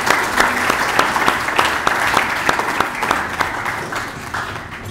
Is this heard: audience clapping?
yes